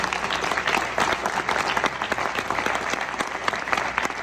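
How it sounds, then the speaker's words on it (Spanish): An audience at a Suzuki talk in Ecuador breaks into sustained, dense applause, with many hands clapping close together and evenly throughout. "un aplauso por favor para Albert"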